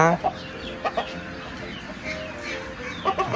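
Chickens cluck nearby in short scattered bursts, with a faint voice and outdoor background underneath.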